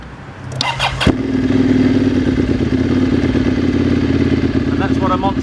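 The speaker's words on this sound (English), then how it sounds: "that's what a Monster air-cooled V-twin sounds like with SC Project exhaust" Ducati Monster with an air-cooled V-twin and SC Project exhaust, heard as a sharp start-up followed by a loud, steady, lumpy idle close by.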